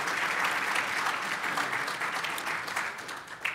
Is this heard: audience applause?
yes